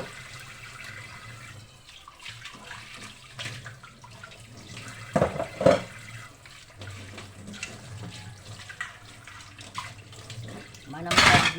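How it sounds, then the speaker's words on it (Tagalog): Tap water runs steadily into a sink as used dishes are washed, with a continuous low wash, occasional clatter and splashes, and a louder burst near the end, under quiet background talk. "Hugas sa tatong mga ginamitan."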